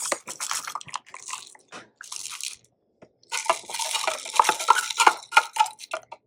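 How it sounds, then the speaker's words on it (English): Solid pellets for a pain relief salve being scooped and poured into a clean jar, giving dry rattling, scraping and clinking bursts, close and fairly loud, broken by short pauses. "Now I'm going to get my 1 ounce of pellets."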